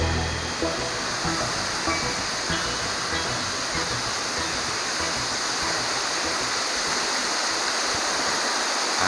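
Steady, dense rush of falling water roaring continuously, a loud, unbroken wash of white noise with no pauses.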